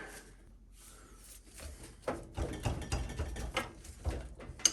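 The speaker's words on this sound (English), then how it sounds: "I'm gonna run this bolt up pretty close to where that thread count is" Ratchet running a bolt up on the front end of a 2005 Chevrolet Trailblazer 4x4, a quick rattling burst of clicks close by after a quieter start, with no talking.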